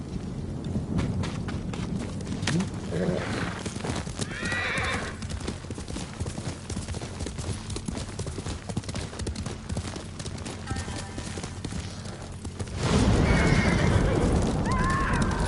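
In the samurai video game Ghost of Tsushima, a horse gallops with rapid, continuous hoofbeats and snorts a few times. Rough wind and a rumbling ambience lie underneath, and the hooves grow louder near the end.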